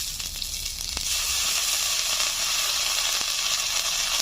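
Ginger garlic paste sizzling hard with onions in a frying pan for a Bengali fish-head dish, a bright continuous hiss that swells after a brief clatter, close and loud.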